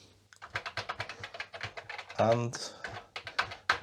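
Keys clatter in a quick, irregular run on a Commodore VIC20 keyboard with some faulty keys, close and fairly loud, with a brief louder burst midway and a man's short spoken word.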